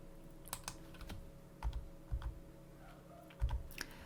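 Soft, close computer keyboard presses in a few separate taps and pairs, like Ctrl+X and Ctrl+V shortcuts, quiet over a faint steady hum with no talking.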